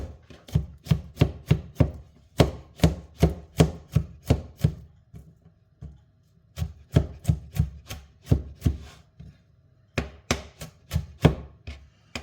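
A knife finely chopping peeled garlic on a board, with quick bursts of sharp, rhythmic taps close up, several runs of fast strokes broken by short pauses.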